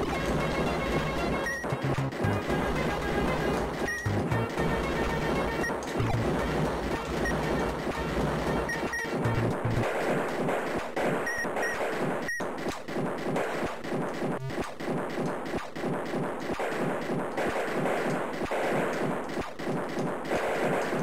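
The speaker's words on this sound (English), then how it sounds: "Because this is a decent speed of auto fire." Auto fire shooting in the Amiga game Xenon 2: Megablast, a dense, loud, rapid stream of repeated shots with crashing bursts that runs unbroken for the full length, and no voice.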